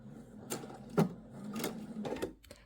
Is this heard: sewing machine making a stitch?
yes